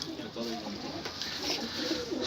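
Başka pigeons kept in their loft coo softly over a steady, hissy background of the coop, faint and somewhat distant throughout.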